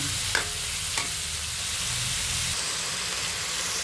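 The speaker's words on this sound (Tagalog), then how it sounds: "ilagay ko na ang chicken breast. Tapos isangkot sa ko siya ng maigi hanggang mag-brown" Chicken breast stir-frying in a pan with onion and garlic until browned, a steady close sizzle with a couple of brief utensil knocks early on, no talking.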